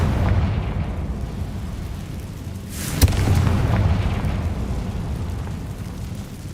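A Confringo spell explodes in Hogwarts Legacy, a single booming blast midway through over a steady rumbling game background.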